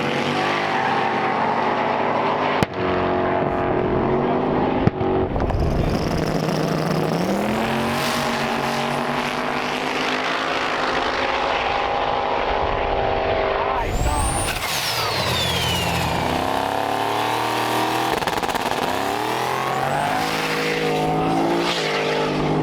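A junkyard S10 truck with an LS engine makes a race run at a private airport, its engine revving loudly through rising gear pulls and shifts, close and dominant for the whole run, with sharp clicks near the start.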